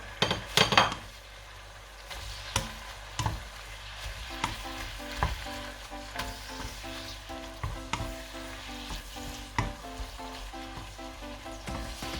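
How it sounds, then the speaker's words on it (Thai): Beef with oyster sauce and basil leaves sizzles steadily in a pan while a utensil scrapes and clinks against it in irregular strokes, close and continuous with no talk. "หลังจากนั้นเราก็จะใส่ใบโหระพาลงไปนะคะ เราจะผัดไม่นานนะคะ"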